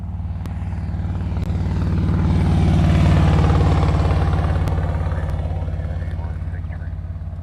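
An airliner arriving from Denver comes in to land at Honolulu airport at night, its jet roar swelling to a loud peak mid-clip and then easing off as it passes, with a steady tonal whine underneath.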